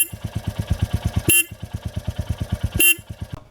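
Royal Enfield Meteor 350 motorcycle's single horn honks twice, two short loud bursts spaced apart over the idling engine's steady thumping beat.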